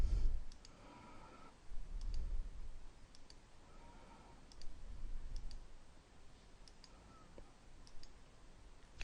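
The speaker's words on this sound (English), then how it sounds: "simply by clicking on the columns" Mouse clicks on column headers of a job monitor list, a few sharp isolated clicks spaced across a quiet room background with low hum.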